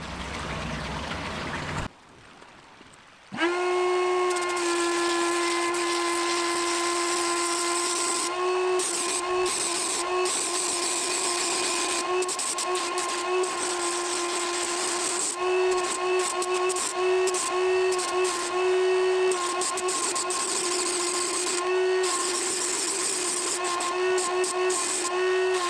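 A continuous high-pitched whine of a paint sprayer spraying garden furniture, running steadily for a long stretch, close and loud, with a brief pause near the start.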